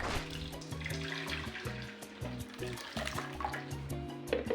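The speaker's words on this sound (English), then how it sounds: "I pour hot water over the duck." Hot water poured over a freshly slaughtered duck on a farm: a continuous close splashing and trickling pour, moderately quiet, with no talk.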